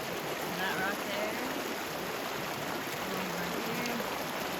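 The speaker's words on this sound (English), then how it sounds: "Okay, so Scooter and I just did our first water crossing" A flowing mountain stream at a hiking water crossing in the Sierra, a steady close rushing wash of water with no talk.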